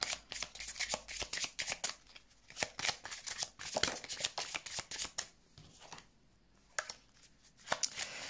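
Tarot cards are shuffled for a reading, giving a close series of quick riffling bursts and soft flicks in an uneven rhythm, with brief pauses between handfuls and no talk.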